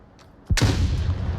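A grenade goes off in the VR shooter Onward during a competitive team match: a few faint knocks, then one sudden loud blast that rolls into a long, rumbling decay.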